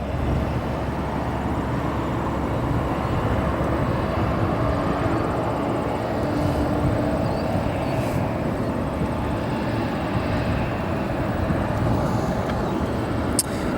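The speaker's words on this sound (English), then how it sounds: "Take a moment to turn to the southmost runway here at O'Hare as this Frontier Airlines arrival" Frontier Airlines airliner arriving on the southernmost runway at O'Hare Airport, a steady broadband jet roar heard from a distance that holds at a constant level for the whole stretch, with no voices.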